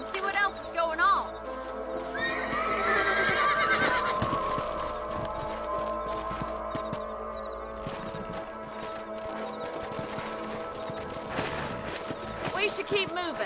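Horse whinnies and clip-clopping hooves in Red Dead Redemption on PS3, with a neigh near the start, steady hoofbeats and game music throughout, and voices talking over them.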